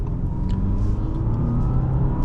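A 2024 Audi A6 45 TFSI accelerating under throttle on a test drive, its engine a steady, loud rumbling drone heard from inside the cabin with no talking.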